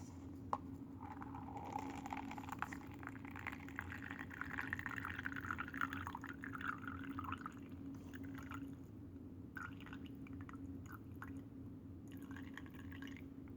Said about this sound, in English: We're going to now try to pour the water and oil solution into this clean cup while not getting any of the sand that's in here.